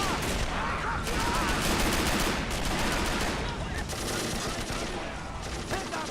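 Sniper rifle fire in a Men of War: Assault Squad 2 battle at a British fortress, steady dense crackle of gunfire and battle noise running throughout without pause.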